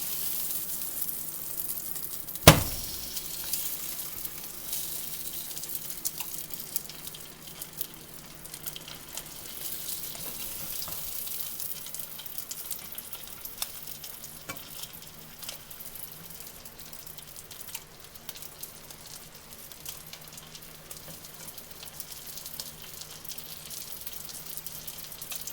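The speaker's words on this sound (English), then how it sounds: "he's sizzling pretty good" Steady, soft sizzling of rainbow trout frying in butter in a pan, a continuous hiss with faint pops and one sharp knock near the start.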